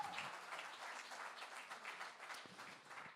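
Church congregation applauding, a broad, dense wash of many hands clapping together that holds steady, moderately loud, with no voices over it.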